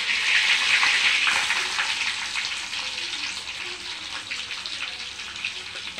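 Mustard seeds, cumin, fennel, dried chilli, cinnamon and cardamom sizzling in hot oil for a vegetable kurma, a close bright hissing crackle that is loudest at first and eases slightly over several seconds, with no talking.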